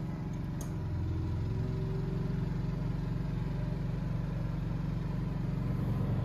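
A small Energizer inverter generator runs steadily and rises in pitch as it revs up, then holds a constant drone with no talking.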